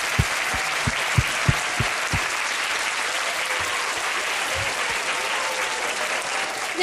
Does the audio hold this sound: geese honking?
no